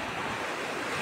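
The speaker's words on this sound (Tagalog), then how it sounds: "Ang laki ng alon!" Large ocean waves crash and roll onto a beach at Morong, Bataan, a loud, continuous roar of surf with wind buffeting the microphone.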